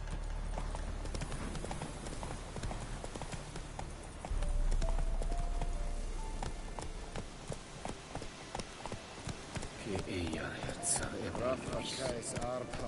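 In The Witcher 3, Geralt's horse Roach gallops with fast rhythmic hoofbeats under game music, while a voice speaks over the riding.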